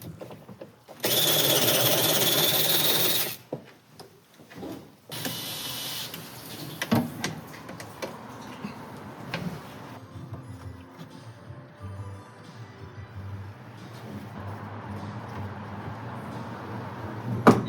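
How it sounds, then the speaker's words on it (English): A cordless electric slim ratchet backs bolts out of a 1978 Mazda Cosmo during a teardown. It gives two loud sustained whirring bursts followed by softer clicks and handling noises. "It's a vessel cordless electric slim ratchet."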